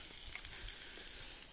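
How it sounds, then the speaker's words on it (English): Potatoes fry in a pan at a snowy winter campsite, giving a steady close hiss and crackle of sizzling oil that runs unbroken and fairly quiet, with nobody speaking. "Just frying up some potatoes here."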